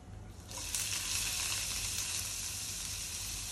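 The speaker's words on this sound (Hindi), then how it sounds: "अभी इसमें हम थोड़े ऑनियन डालेंगे" Onions dropped into a hot pan for aloo tikki chaat burst into a loud, steady sizzle after a quiet start, the hiss of frying continuing evenly to the end.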